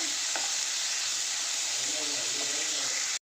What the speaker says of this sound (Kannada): ಇವಾಗ ಟೊಮೊಟೊ ಹಾಕ್ಕೊಂಡು ಸ್ವಲ್ಪ ಟೊಮೊಟೊನ ಬೇಯಿಸಿ ಬರಬೇಕು.